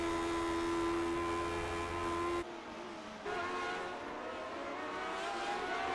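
Richie Hearn's race car pulls off pit road at Sonoma, its engine a steady, loud tonal drone that briefly cuts out near the middle before resuming with rising pitch, with no one speaking.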